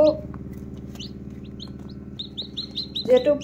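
Newly hatched chicks in an indoor partitioned brooding enclosure cheep in rapid, high repeated peeps, with a steady low hum underneath and a louder chirp near the end.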